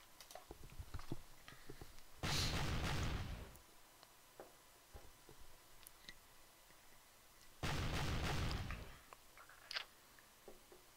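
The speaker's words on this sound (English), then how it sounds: "We got out of range of one of their batteries, the other one's still firing, but very little casualties." Artillery battery cannons firing in the historical battle video game Pike and Shot: Campaigns, two loud booming volleys several seconds apart, each rolling off slowly over quieter ambient battlefield noise.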